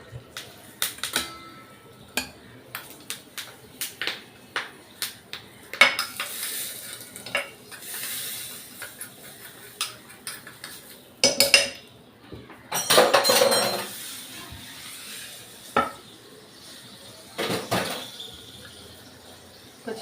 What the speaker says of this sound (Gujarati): પછી આને હલાવી દેવાનું.